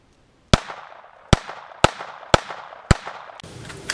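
Five sharp, evenly spaced gunshots from a .38 Special +P revolver during ammunition testing outdoors, each a loud crack with a short ringing tail, followed by a burst of rustling noise.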